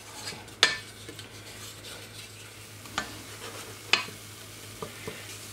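Flour is stirred into melted butter in a pot to cook a roux, with soft scraping under a faint low sizzle and a few sharp utensil clinks against the pan, quiet and close.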